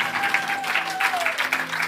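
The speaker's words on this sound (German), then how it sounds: "können wir einen Applaus geben für alle, die diese erste Entscheidung getroffen haben?" A church congregation applauds, a short burst of dense clapping with a voice speaking over it.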